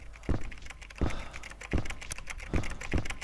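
Keyboard typing in the game Echo Night: Beyond, five distinct clacking keystrokes spaced irregularly over a low ambient game background, without talk.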